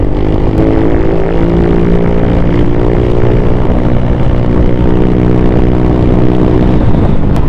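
Honda Click 125 scooter fitted with a Replica Pro exhaust, revved hard and held high, a loud, close, buzzing exhaust note with rising and falling pitch sustained throughout, no voices.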